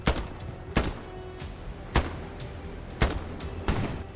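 Rifle shots from the World War II game Hell Let Loose crack out at irregular intervals, about five or six sharp reports over a low rumbling battlefield background, with no speech.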